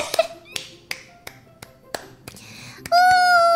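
Sharp hand claps or snaps sound one at a time in an uneven series, close and crisp, then a sustained bright chime-like tone takes over at the end.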